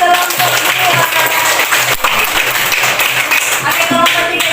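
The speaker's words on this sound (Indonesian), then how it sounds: "tepuk tangan buat kelompok 2" Classroom applause for a student group, loud close clapping from many pupils in a room, a brisk continuous patter with some voices and chatter mixed underneath.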